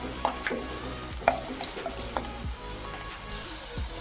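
Onion sautés in oil for a soya chunks curry, a moderate sizzle punctuated by several distinct spatula knocks and scrapes against the pan as it is stirred.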